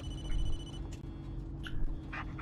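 A phone rings in the Blair Witch horror video game, a steady electronic tone running over a low ambient hum, followed by a few brief higher chirps near the end.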